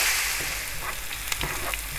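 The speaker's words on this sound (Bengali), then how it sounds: "এবার এই দুটোকে একসঙ্গে খুব ভালোভাবে কষিয়ে নিতে হবে" Ginger-garlic paste sautés in hot oil for achari chicken bhuna, giving a bright, close hiss broken by a few soft stirring knocks over two seconds.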